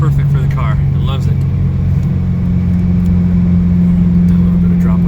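A 1992 Mustang GT fitted with SVE headers, an SVE X-pipe and Mac Pro dumps cruises steadily, giving a constant deep exhaust hum inside the car as the driver talks over it.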